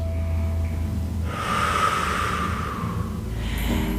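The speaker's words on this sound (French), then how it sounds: "On fait encore une bonne respiration." A slow, deep breath taken during a gentle yoga session, a long breathy inhale rising and then easing off, heard alone and fairly close.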